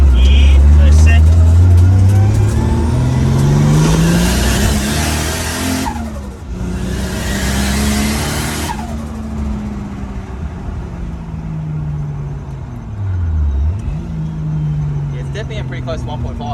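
Nissan Skyline R31 pulling hard through second gear, engine rising loudly in pitch under boost, then a shift dip and the rev climb starting again, with people talking inside the car throughout.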